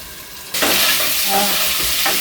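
Potatoes for dum aloo hitting hot oil and frying over medium heat, a sudden loud sizzle that bursts in after a quieter moment and holds steady and close, with no talking.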